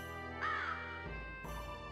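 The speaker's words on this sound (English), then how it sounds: "They actually have the crows" Crows cawing in the Diablo 1 PlayStation 1 port, a couple of harsh caws standing out over a steady droning game music bed, no talk.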